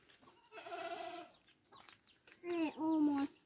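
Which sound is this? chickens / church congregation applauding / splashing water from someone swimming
chickens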